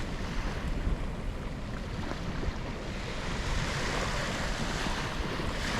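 Waves washing onto the beach at Foxton estuary, a continuous broad surf roar with wind buffeting, steady and fairly close with no voices.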